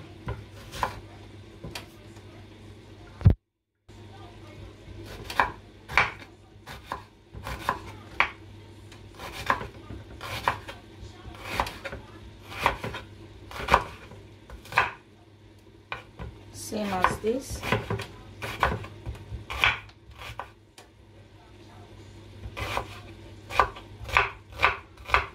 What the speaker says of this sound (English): So I'm going to be chopping this into smaller pieces.